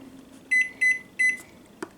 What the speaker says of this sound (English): That's the hot chocolate in the microwave.